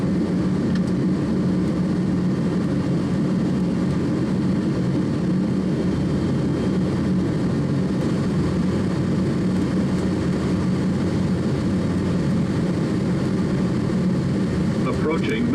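Steady cockpit noise of an Air Canada Boeing 777 on landing approach, a continuous loud engine and airflow roar that runs unbroken throughout, with crew voices calling out over it.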